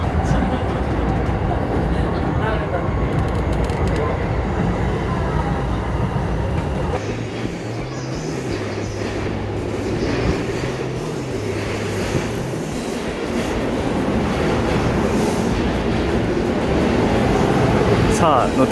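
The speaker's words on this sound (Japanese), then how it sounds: "さあ乗ってきた京浜東北線が走り去っていきました。" A JR Keihin-Tohoku Line commuter train pulls out of a station in Tokyo. A loud, close, sustained rumble and rolling rail noise continues for nearly twenty seconds, swelling again toward the end.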